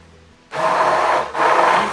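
A countertop blender mixes a smoothie drink, starting abruptly and whirring loudly and steadily, with a brief dip before the motor surges again.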